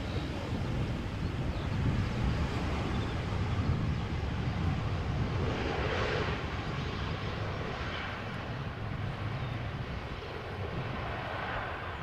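A narrow-body airliner landing at Amsterdam Schiphol in a crosswind: a steady, distant jet roar that swells slightly and then eases, heavily mixed with wind noise on the microphone.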